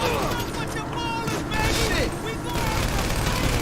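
Gunfire in GTA 5 Online during a heist mission, dense bursts of shots blended with game sounds and chatter, loud and continuous throughout.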